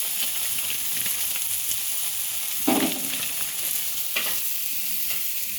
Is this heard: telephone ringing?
no